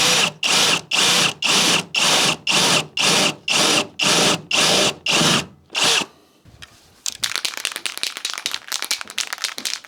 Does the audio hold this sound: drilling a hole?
yes